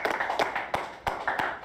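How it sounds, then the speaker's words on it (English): A small crowd at a Miami music audition claps: a handful of sharp, evenly spaced claps over a murmuring room background, close and moderately loud. "Y'all clap it up, even in the back. Clap it up"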